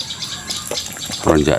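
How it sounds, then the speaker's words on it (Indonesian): Prinia (perenjak) calling from overhead in a village duck-farming yard in late afternoon, with short high chirps scattered through ambient sound and a louder burst of song near the end. "Tuh di atas ditemani manuk perenjak"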